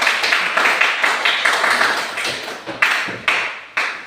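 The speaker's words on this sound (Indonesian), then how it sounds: "kita berikan aplaus" A classroom group claps in applause, with a rapid patter of many hands that settles into a few separate, sharp, rhythmic claps toward the end.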